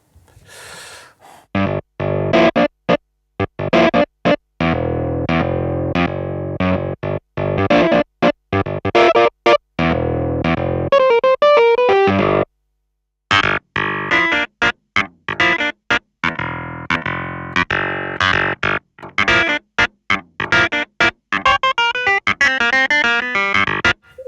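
A Nord Piano 4 or Korg SV-2 stage piano played through a Twin amp with drive at half, chords and runs with a gritty, overdriven edge and bright top end, broken by short gaps; no voices.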